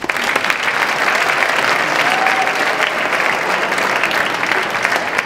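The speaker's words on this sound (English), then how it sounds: "So let's give him a big round of applause." Sustained applause from a high school audience of juniors in an auditorium, a dense, steady wash of clapping lasting several seconds with a few faint voices mixed in.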